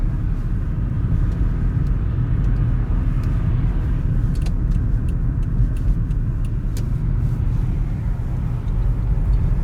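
A car drives through Yakut cold at -49 degrees, a steady low road rumble and engine drone filling the cabin throughout, with faint clicks and ticks on top and no talking.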